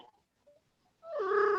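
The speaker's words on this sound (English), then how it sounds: "There's a cat there coming." A cat lets out a single drawn-out, whiny meow near the end, fairly close and clear after a few faint background sounds during a remote online meeting.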